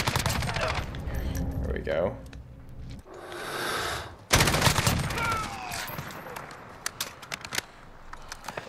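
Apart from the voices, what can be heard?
CTAR-21 SBR rifle gunfire in Call of Duty Modern Warfare video game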